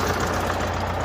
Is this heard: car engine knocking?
yes